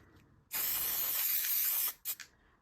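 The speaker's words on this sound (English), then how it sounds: "then I go in with the spray paint and just do the green on the bottom" A can of green spray paint hisses in one long, steady burst of about a second and a half, followed by two short quick puffs, sprayed onto resin art pieces.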